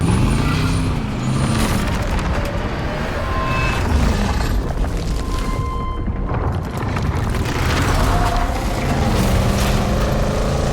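Supercharged small-block Chevy V8 with a Gen 5 Whipple 3.0 twin-screw blower in a 2024 Fox Factory Silverado, a loud continuous deep engine roar and rumble, close and steady, with no talking.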